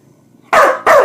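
A husky puppy gives two sharp, loud barks close by, one right after the other, following a quiet moment.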